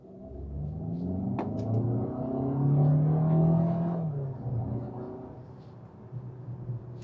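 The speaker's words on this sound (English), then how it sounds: "I think I'm gonna floor it here." A Cupra Terramar SUV is floored to full throttle, its engine rising in a steady swelling roar that peaks midway and then eases off, heard from inside the cabin with no talk.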